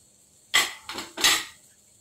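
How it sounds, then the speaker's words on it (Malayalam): Spoon scraping and clinking three times against a bowl while stirring a chana chaat masala mixture, short metallic strokes that stand out clearly against near silence. "വീണ്ടും ഇത് നന്നായി ഒന്ന് നമുക്ക് ഇളക്കി യോജിപ്പിച്ചെടുക്കാം"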